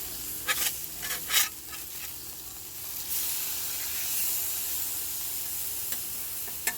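A pork chop fries on a Blackstone griddle, a steady close sizzle and hiss after a few clattering scrapes and taps of a spatula at the start, with no voices.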